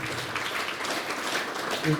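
Applause from an audience at a national seminar at Don Bosco College, a brief burst of steady clapping sitting under a voice that carries on speaking.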